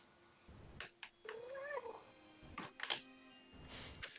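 A cat meows and yowls several times up close, drawn-out wavering cries with a caterwauling edge, separated by brief pauses and soft background noise, recorded faintly.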